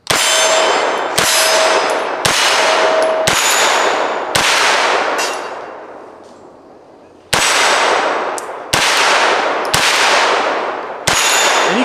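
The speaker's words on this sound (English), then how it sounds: "you can see the way this thing shoots, this thing plows those paddles to the side" A 9mm pistol-caliber carbine fires at steel paddle targets on a range: about nine sharp, loud shots at a steady pace, each followed by a bright metallic ring that fades out.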